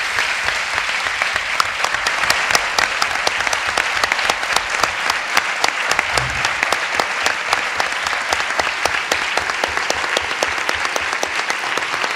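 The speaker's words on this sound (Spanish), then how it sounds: "Aplausos." An audience at a philosophy talk on ancient Greek music claps loudly and steadily, a dense sustained round of applause filling the hall from start to finish.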